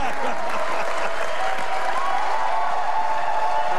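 A huge bowling crowd in Tacoma cheers and applauds loudly after Norm Duke rolls a perfect 300 game at a professional tournament, a dense, sustained roar with no break.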